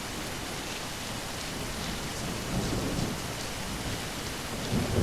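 Heavy rain falls steadily in the Witchblood video game, a dense, hissing downpour with low thunder rumbling and swelling underneath, heard without any talk.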